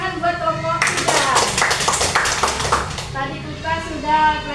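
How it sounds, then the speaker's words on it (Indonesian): A class applauds group 3 during a peer-teaching lesson, a dense burst of clapping lasting about two seconds, with voices talking just before and after it. "Tepuk tangan buat kelompok 3."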